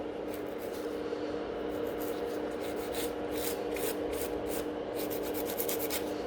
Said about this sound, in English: I'm just filing it a little bit from underneath to lift that nail up a tiny bit